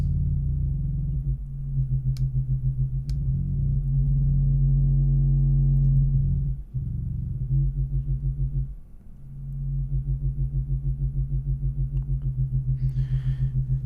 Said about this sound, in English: We are modulating around the actual frequency of the sine wave that we are on.